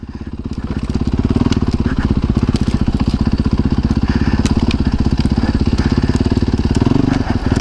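A Yamaha dirt bike ridden off-road revs close and loud, its engine a steady, rapid thumping drone that builds in the first second and holds strong to the end.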